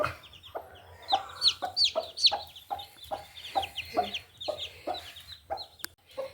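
Hens cluck in short bursts while newly hatched chicks cheep high and thin nearby, a lively overlapping chorus heard up close.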